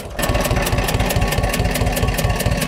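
Władimirec T-25 tractor diesel idling steadily in late-November frost, a close, loud and even low chug with a fast regular pulse and strong exhaust knock throughout.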